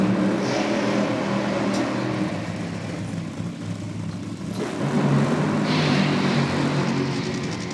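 Top Fuel dragsters racing at Sydney Dragway, a loud broadband engine roar that fills the whole stretch, dipping slightly midway and swelling again, heard from a distance across the strip with no clear talk.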